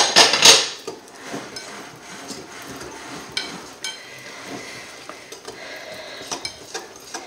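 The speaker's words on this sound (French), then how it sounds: "on mélange pendant quelques instants afin d'obtenir une pâte lisse" Pineapple cake batter is mixed with flour in a bowl: one loud clatter opens, then light, irregular clicks and taps of a utensil against the bowl continue steadily, close by and without speech.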